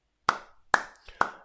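Three sharp, separate hand claps with a short pause between each, close and distinct against silence.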